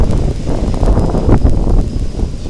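Wind buffets a flying drone, either an XK X380 or a Phantom 3 Standard, on a windy day, producing a continuous low roaring rumble with gusty fluctuations that stays loud throughout, with no voices.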